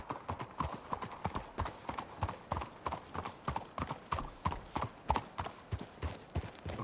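Horses' hooves clip-clopping at a steady walking rhythm in the Red Dead Redemption 2 video game, a close, regular series of hoof strikes with occasional voices over it.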